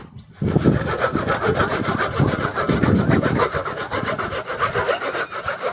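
A hand saw cuts through the wood of a fallen almond tree brought down by a storm, fast rhythmic back-and-forth rasping strokes, close and loud after a brief quiet start.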